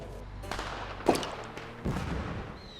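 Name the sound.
fireworks rockets exploding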